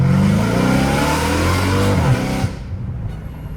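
A straight-piped Dodge Hellcat Redeye engine revs hard from inside the car, a loud dense roar that holds high and then drops sharply, fading into a quieter idle rumble.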